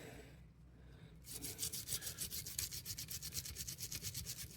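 A brush scrubs the trigger and firing assembly of a Canik TP9SFX pistol during cleaning. After a short quiet start come quick, even back-and-forth strokes, close and crisp, in a steady rhythm.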